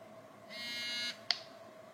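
A Nash Siren R3 fishing bite alarm vibrates in a brief buzz lasting about half a second, followed by a sharp click in near silence.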